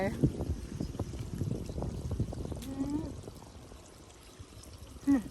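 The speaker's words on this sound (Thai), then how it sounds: "น้ำไหล" Running water pours steadily after rain near rice fields, with a person talking over it and a brief louder splash near the end.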